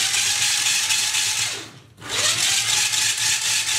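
A geared 1600 RPM drive motor inside a BB-8 droid spins it on the spot with a loud, close, steady whir that briefly dips and then winds straight back up.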